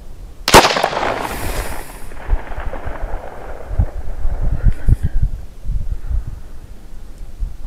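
Two 9mm +P rounds fired from a short-barrel Glock 43X pistol during a chronograph test, one sharp loud report near the start followed by a long rumbling decay and low thumps, with no talk.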